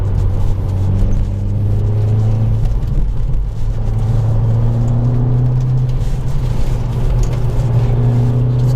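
A modified 300 PS VW Golf GTI Edition 30 drives a mountain pass, its engine droning loudly and close with rising and falling pitch as it pulls through the gears over steady road rumble.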